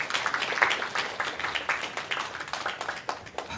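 A church study group claps together, a moderately loud patter of many hands with individual claps standing out, continuous throughout with a slight dip and swell near the end.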